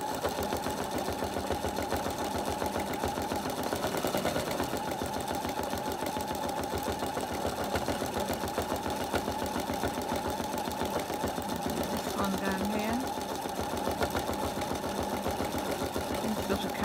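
A sewing machine doing free-machine embroidery of small fabric-scrap flowers runs steadily and loudly the whole time. Its fast, even whirring and needle chatter continue without a break.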